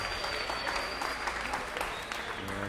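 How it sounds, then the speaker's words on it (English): Arena crowd applauding two young boxers after a main-event bout, steady broadband clapping throughout with a faint tone running beneath. "both young men getting a nice round of applause"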